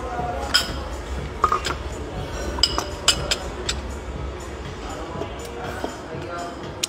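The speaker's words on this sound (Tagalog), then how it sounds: "Alisin ko muna yung aking pinggan." Plates and cutlery clink lightly in a restaurant as a dish is cleared from the table, a few sharp ceramic and metal taps scattered over busy dining-room chatter and background voices.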